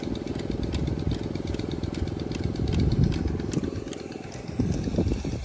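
A small rice planting machine engine runs at close range in a rice paddy with a steady, rattling chug and slight shifts in pitch, with no talking.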